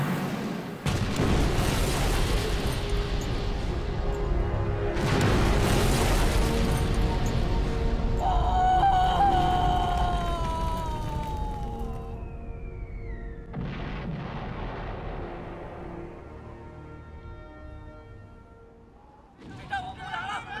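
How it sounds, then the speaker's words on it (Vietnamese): Naval cannons fire during a sea battle in a Chinese war film, with heavy booming blasts and rumbling explosions that roll and echo across the scene, fading slowly between the loud volleys. "Nổ pháo, bắn."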